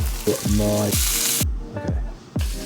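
Harvey Brown T-bone steak sizzling in a frying pan: loud, bursting hiss broken by squealing, scraping tones and thumps, close up with no talking.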